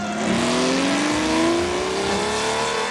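A Ferrari 250 LM endurance racing car from the 1960s roars at high revs, its engine note climbing steadily in pitch as it accelerates, loud and close with a smooth, continuous howl.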